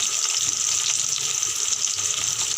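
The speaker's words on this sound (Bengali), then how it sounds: "দেখো মাছগুলো আমি ভাজা করছি।" Bele fish sizzle in hot oil in a pan, giving a steady, close crackling hiss that runs unbroken throughout.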